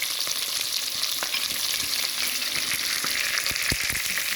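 Beef sears in a hot pot for a beef stew, giving a loud, steady sizzle with sharp crackles and pops throughout and no voices.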